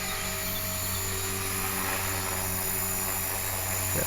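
An HK-450 RC helicopter flies nearby in calm weather, a steady high-pitched rotor and motor whine with a constant buzzing hum, moderately faint and unbroken.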